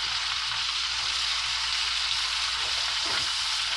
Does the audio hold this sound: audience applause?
no